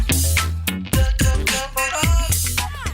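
A Wiko brand ringtone plays loud and close, a bright electronic melody of punchy notes and deep bass hits over about three seconds.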